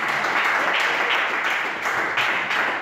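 A church congregation at a prophetic service applauds and cheers in a continuous, dense wash of clapping that carries evenly from start to finish.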